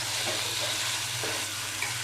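Spices frying in oil for a Bengali duck meat curry, a dense, even sizzle with faint stirring scrapes, close and steady, with no voices.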